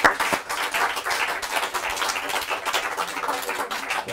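Audience applauding after a hypnosis session, a dense steady burst of many hands clapping together, close and fairly loud, with no talk over it.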